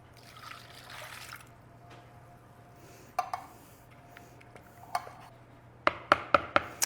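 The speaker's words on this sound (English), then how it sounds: "To that, we're adding a can of beef broth." A can of beef broth pours into cream of mushroom soup with a steady liquid trickle and splash, then a few sharp clinks and taps from the can and bowl near the end.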